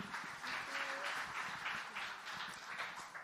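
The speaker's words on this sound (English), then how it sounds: "Please welcome them once again with a big round of applause." An audience at a women's leadership event in Mumbai applauds to welcome two diplomats, a faint, steady wash of many hands clapping with no one speaking over it.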